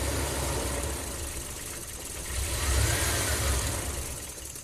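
Warm Ram camper van engine after a hot soak, idling with a steady low rumble up close that rises slightly and then fades as it stalls out.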